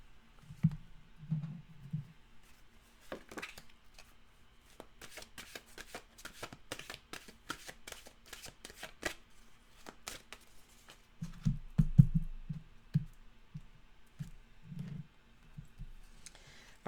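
Cards from a mantra deck are shuffled in a fast riffling burst, with soft taps and handling sounds before and after as a card is drawn, close and quiet, without speech.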